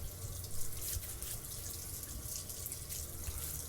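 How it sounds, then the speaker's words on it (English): Cold water runs steadily from a tap while a face is rinsed after a shave, a continuous splashing hiss with small surges, close and moderately quiet with no talking. "Cold water rinse."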